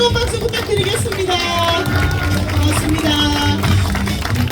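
Crowd applause at the opening of Jeon Jae-soo's election campaign office for Busan mayor, steady clapping from many people with cheering and chatter mixed in, loud and close throughout.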